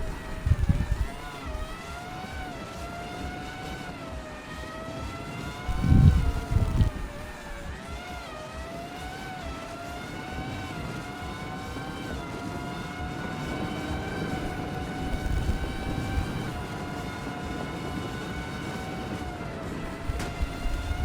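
2000s-era Formula racing car engines in the Formula Legends video game, a sustained high-pitched whine whose tone rises and falls with acceleration, heard steadily alone for about twenty seconds.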